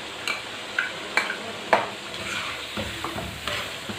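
Chicken and chopped capsicum stir-frying in a pan, with a steady sizzle and several sharp spoon scrapes and clacks against the metal close by, no talking.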